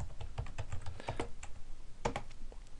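Quick, uneven keystrokes on a computer keyboard as text is typed into a template, close and moderately quiet, with brief pauses between bursts and no talking.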